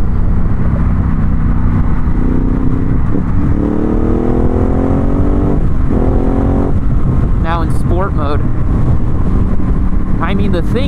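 A 2019 Ducati Hypermotard 950 SP with its 939cc engine accelerates hard in sport mode, a loud, close engine note climbing in pitch through the gears over heavy wind rush, with a voice briefly audible near the end.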